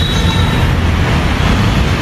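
A Hyderabad metro train rumbles near Tarnaka metro station, a loud, steady roar of wheels and motor with a faint high whine fading early, no voices over it.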